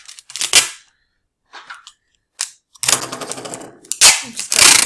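Packing tape is torn off a roll by hand to seal a folded cardboard box: several sharp, crackling rips in short bursts with quiet gaps between them, close up.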